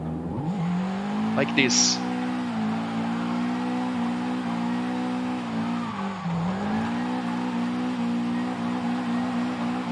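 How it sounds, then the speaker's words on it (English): A drifted car's engine in Forza Horizon screams near maximum revs in a sustained, high-pitched howl, with a brief tire chirp early on and a short dip before climbing again. A voice speaks briefly. "you can never be max revs smashing the engine since the car is asking for another gear"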